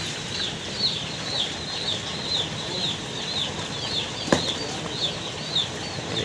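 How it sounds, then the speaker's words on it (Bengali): Paragon broiler chicks crowd a carton, peeping constantly in a dense, overlapping chorus of high, rapid cheeps, close and steady throughout with no talking. "এই যে বাচ্চা, হচ্ছে প্যারাগনের বাচ্চা।"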